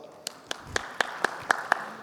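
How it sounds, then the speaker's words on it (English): At a medical seminar, a few isolated claps ring out in an even rhythm, about seven sharp hand claps, faint and sparse rather than a full crowd ovation. "Can you give a big round of applause to all of us?"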